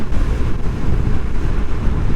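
A strong south wind buffets the microphone while riding a scooter headlong into it, a loud, steady roar of low rumbling gusts with no talk.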